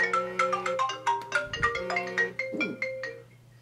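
An iPhone call forwarded by Continuity rings through a Mac's speaker as a repeating electronic ringtone melody, a clear run of bright plucked notes that plays on its own with no talk.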